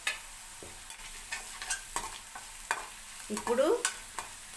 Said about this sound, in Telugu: కొంచెం పసుపు వేస్తున్నాను